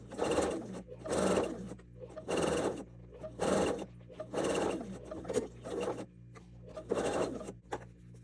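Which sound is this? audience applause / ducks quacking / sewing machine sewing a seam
sewing machine sewing a seam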